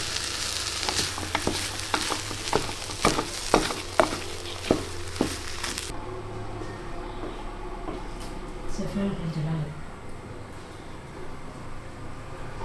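Mint is stirred into a frying pan of vegetable cutlet mixture: scraping and stirring with a soft sizzle, a series of sharp utensil clacks early on, then quieter stirring noise.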